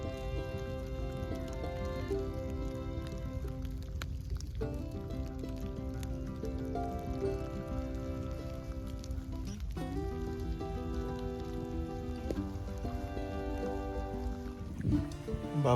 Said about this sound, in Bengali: তার সাথে বৃষ্টির রিমঝিম।